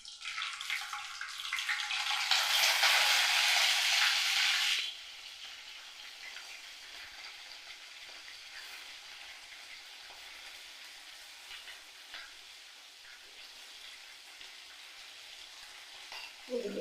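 Giant freshwater prawns dropped into hot mustard oil in a kadai give a loud, hissing sizzle for a few seconds, then settle into a quieter, steady crackle of frying that continues close by without talk.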